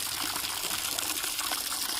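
Water fills a container outdoors at a farm field, a continuous gushing, splashing rush that stays even and steady throughout, fairly close and without voices.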